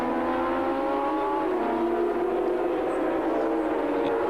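A racing motorcycle from the 1985 Swann Series accelerates hard down the straight, a loud, continuous engine drone that climbs steadily in pitch throughout, heard alone without talk.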